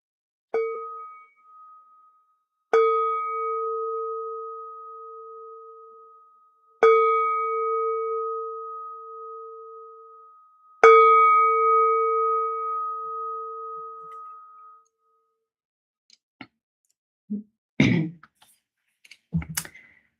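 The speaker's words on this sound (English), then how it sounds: "to the sound of the bell and have that touch your heart" A meditation bell struck three times at slow intervals, each clear tone ringing out and fading gently, followed by a few soft rustles.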